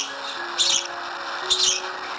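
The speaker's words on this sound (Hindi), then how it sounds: "यह है स्प्रो। स्प्रो यानी कि गौरैया।" House sparrow chirping in two short bright bursts about a second apart, fairly close, with a faint steady background hum and no talk.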